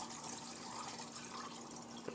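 Water pours steadily into a phytoplankton culture container, a continuous, faint, hissing splash with no talk.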